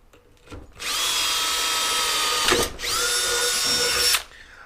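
A power drill boring a hole in metal whines at high speed in two long bursts, briefly easing between them, loud and close with no talking.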